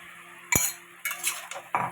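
A spoon scrapes and clinks against a metal pot while turmeric, cumin, chili and ginger paste are mixed into vegetables for labra curry, three short close strokes in a quiet kitchen.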